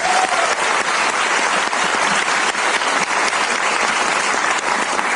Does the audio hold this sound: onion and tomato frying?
no